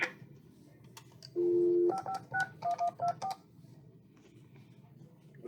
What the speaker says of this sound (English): Hang up, dial again.